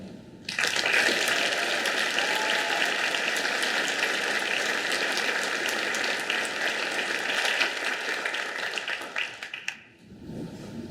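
Sustained applause from an audience at a university faculty and staff excellence awards ceremony, steady and dense for about ten seconds before tapering off near the end.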